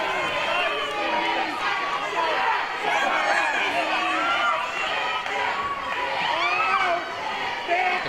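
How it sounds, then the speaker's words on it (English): A wrestling crowd at an independent show jeers and chants at a wrestler, a dense, continuous roar of many shouting voices that rises and falls throughout. "The crowd calling Sexy Eddy a chicken."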